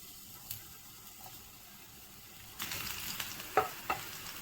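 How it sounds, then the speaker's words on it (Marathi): Onion frying in a pan while a soybean masala is being cooked: a quiet, steady sizzle with a couple of sharp stirring clicks near the end. "पहिले कांदा फ्राय करून घेऊया।"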